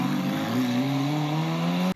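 A Dodge Stealth 3000GT running a stainless true-dual exhaust gives a steady, loud, deep droning note that holds for about two seconds, then cuts off abruptly.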